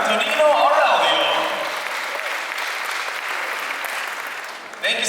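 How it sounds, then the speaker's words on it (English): An audience at a pageant coronation night applauds, a dense sustained clapping from the hall that eases slightly midway, with an announcer's voice heard over it at the start. "a warm round of applause for our distinguished panel of judges, please"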